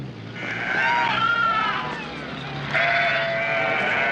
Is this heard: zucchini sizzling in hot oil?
no